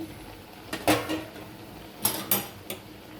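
Metal pot lid lifted and set back on a cooking pot while rui fish curry with ridge gourd and potato cooks, giving a few sharp clinks and clatters in quick bursts, close and fairly loud, with no talking.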